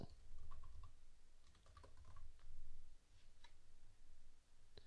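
Quiet, rapid typing on a computer keyboard as plugin names are entered, a steady patter of soft key clicks in irregular bursts with short pauses between.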